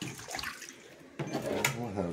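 A freshly cut lion's paw scallop (callo de hacha) dropped into water, giving a short splash and gurgling wash of water after a quieter stretch, close by and fairly loud.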